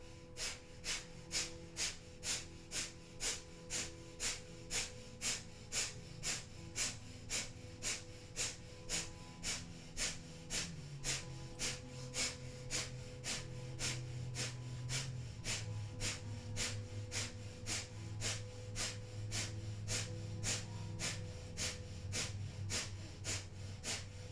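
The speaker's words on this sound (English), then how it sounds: "Panting like a dog through the nose." Breath of fire yoga breathing: rapid, forceful panting through the nose in a steady, even rhythm of short sharp exhalations, about two per second, continuing close up for the whole stretch.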